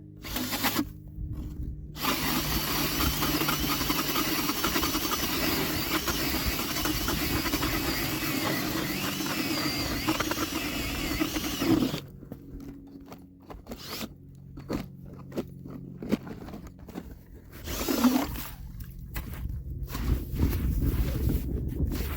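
A hand-cranked ice auger grinding steadily through lake ice, a dense scraping churn that runs on, stops briefly, then resumes in uneven bursts with crunching and scuffing.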